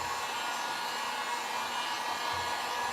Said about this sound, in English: I'm gonna hit this with the dryer real quick.